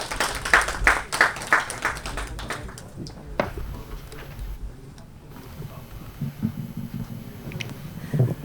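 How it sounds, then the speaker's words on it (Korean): An audience claps for a speaker at a formal event: a burst of loud, rapid handclaps for about three seconds, then a quieter room with faint movement and some voice. "박수 좀 부탁드리겠습니다."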